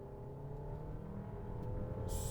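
2025 VW Tiguan R-Line with about 201 horsepower accelerating hard, a faint in-cabin engine drone with steady harmonic tones slowly rising, no voices.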